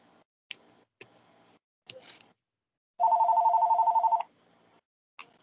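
A home landline phone's electronic ringtone sounds as one steady pulsing trill of about a second, loud and clear, with a few faint clicks and taps before and after.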